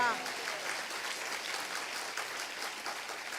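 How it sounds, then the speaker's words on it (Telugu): A Sunday service congregation at Manna Church in Eluru claps together. The applause is soft and fairly distant and keeps a steady patter for a few seconds in a reverberant room. "గట్టిగా చప్పట్లు కొట్టండి ఒకసారి"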